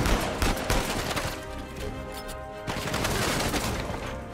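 Gunfire and shotgun blasts from a firefight in the video game Uncharted 4, a dense, loud burst of rapid shots and crashes that eases briefly midway, then swells again into sustained shooting.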